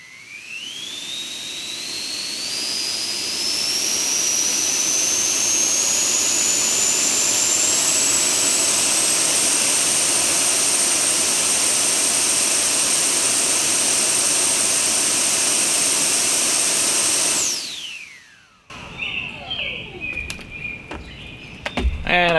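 A 3D-printed EDF drone's ducted fan motors spin up with a rising whine that climbs steadily and holds a loud, piercing jet-like roar for many seconds, then cuts off abruptly, followed by faint rattles and knocks.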